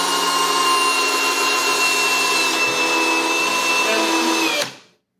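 RIDGID and Makita hammer drills running flat out in a speed test, a loud, steady high-pitched whine with a slight bogging dip before stopping abruptly near the end.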